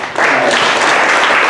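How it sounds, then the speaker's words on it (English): An audience at a conference talk breaks into loud, dense applause that holds steady from start to finish, close and filling the room without pause. "Another round of applause."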